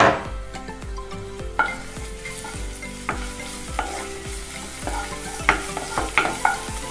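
Garlic ginger paste fries in hot sunflower oil in a pan for a chicken sandwich, a steady close sizzle broken by repeated scraping knocks of a stirring spoon, with no voices.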